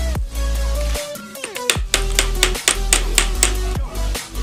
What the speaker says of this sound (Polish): Bez młota to nie robota.